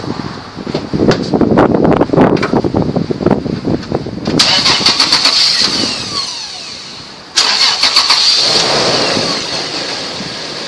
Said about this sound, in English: And I will go in my truck and start it.